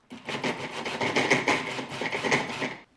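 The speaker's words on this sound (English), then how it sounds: "We're gonna pulse our carrots." Carrots being pulsed in a food processor for a raw vegan chili: a steady, dense grinding and chopping whir with rhythmic pulses that runs loud and close for about three seconds, with no talking.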